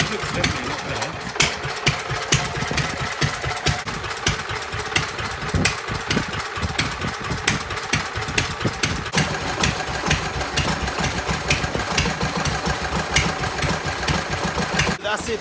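Petter A1 stationary petrol engine running after reassembly, a steady mid-pitched chugging with fast regular firing pulses, close and continuous, with faint talk underneath at times.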